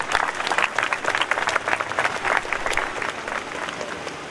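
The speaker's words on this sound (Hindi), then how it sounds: "आप सभी इनका एक बार स्वागत कीजिए ताली के साथ" Applause from a gathering at a foundation-stone ceremony at a Gaudiya Math temple, dense hand clapping with uneven bursts, close and lively, tapering slightly toward the end.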